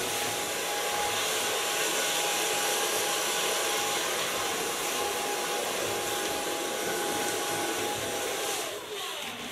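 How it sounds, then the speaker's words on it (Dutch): A hair dryer blows hair dry at a salon styling session, giving a loud, continuous rushing whir that runs steadily throughout and dips only slightly at the very end. "So far blow drying."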